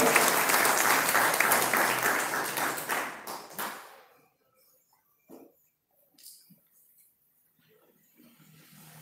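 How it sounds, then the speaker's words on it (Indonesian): Warm applause from an audience at a Karangtalun village head candidates' vision and mission presentation, greeting candidate number 2; dense clapping for about four seconds, then fading to a few scattered claps and faint room noise. "Beri aplaus yang meriah untuk nomor urut 2."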